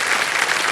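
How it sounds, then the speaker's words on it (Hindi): A studio audience on a TV quiz show claps loudly in a dense, continuous burst of applause that lasts only a moment. "ताली बजते रहे इनके लिए"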